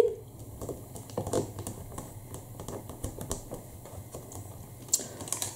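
A stamp platform is lowered and pressed down, giving a run of close, dry plastic clicks and light taps in an irregular rhythm, with a sharper knock near the end and no one speaking.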